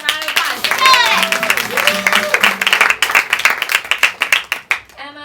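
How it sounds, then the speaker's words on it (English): A tea party audience gives a round of applause, with dense clapping building and continuing throughout while voices talk and exclaim over it. "You guys, let's give our colors a round of applause."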